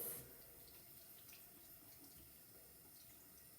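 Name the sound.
rinsing under running tap water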